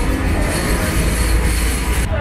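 An Istanbul subway train pulls into the station with a loud, steady roar of wheels and motors filling the platform, continuous and close.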